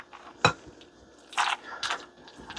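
A utensil stirs macaroni salad in a glass Pyrex bowl, giving a few separate scraping clinks and soft wet knocks spaced out over quiet room tone, close and moderately loud.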